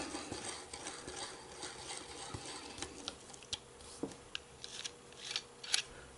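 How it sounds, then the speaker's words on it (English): An Allen wrench working the finial out of an Andersen Forge hunter knife, faint close metallic ticks and scraping clicks, sparse at first then quicker toward the end. "So we use our Allen wrench"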